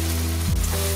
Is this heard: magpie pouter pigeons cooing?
no